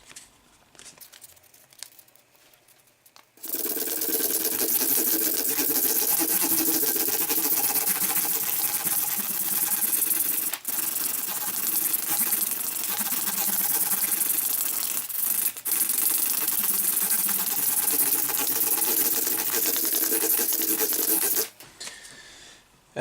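Guitar frets on an Epiphone SG G-400 are worked with 600 grit abrasive, giving a loud, steady scratchy rubbing that runs continuously for about eighteen seconds before stopping abruptly.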